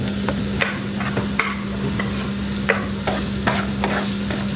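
Onion and garlic sautéing in a pan, a steady sizzle under repeated sharp scrapes and taps of a spoon stirring, close up with a constant low hum in the background and no voices.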